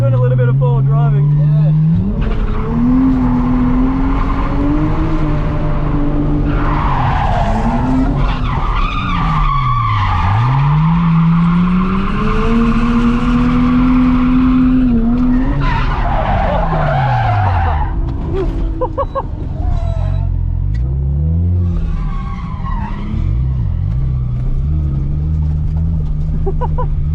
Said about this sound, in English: Doing a little bit of forward driving.